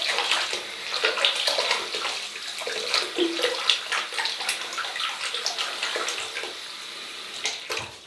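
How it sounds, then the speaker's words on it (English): A shaving brush is dipped and swirled in hot water in a basin, with sloshing splashes and running-water sounds at close range, moderately quiet, a few clinks and drips between bursts. "I'm just going to wet the brush in this nice hot water"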